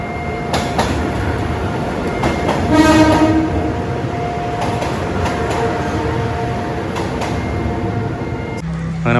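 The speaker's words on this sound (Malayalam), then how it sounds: "ചെറിയ ട്രെയിനാണ്." A small train rolls past a level crossing in Thailand, loud and close, with a horn blast, rumbling wheels and clatter over the tracks, while voices murmur nearby.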